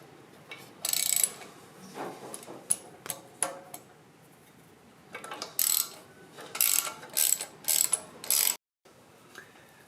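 Bolts on the muffler of a John Deere 755 tractor are loosened with a ratchet, giving close, rapid clicking bursts in short runs separated by quiet pauses.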